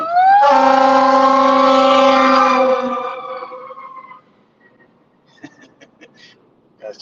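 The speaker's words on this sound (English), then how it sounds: "Guy's trying to run him over in the fire engine." A fire engine siren blares loud and close with a steady, strongly tonal wail for about three seconds, then fades out. Faint clatter follows.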